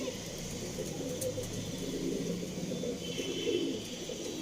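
Pigeons in a backyard loft holding Arsad, Andhra and tippler birds coo softly and faintly, their low murmurs blending with a distant hum of passing traffic.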